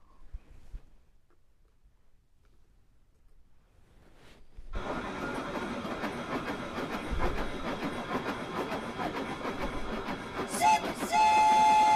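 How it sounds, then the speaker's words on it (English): A train rolls in loudly after about five seconds of near silence, with a steady, heavy rumble and rattle that holds close, and short whistle tones sound near the end. "I hear that train a-coming"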